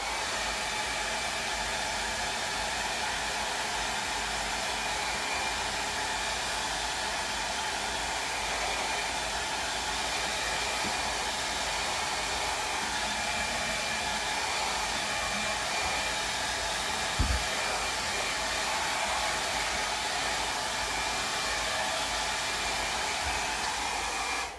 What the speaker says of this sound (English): I'm going to hit it one more time with my dryer.